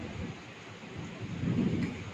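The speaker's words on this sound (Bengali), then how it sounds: "শিলাবৃষ্টি হচ্ছে আমাদের এখানে" Low rumbling thunder rolls through a hailstorm with steady rain, swelling louder toward the end of a brief, fairly faint stretch with no voices.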